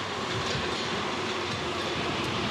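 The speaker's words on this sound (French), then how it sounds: "Ligne 6 du métro parisien, station Passy." A Paris metro line 6 train running on the elevated section near Passy station, a dense continuous rumble of wheels and carriage noise, loud and close with no pauses.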